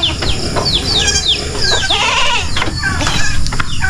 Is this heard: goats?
yes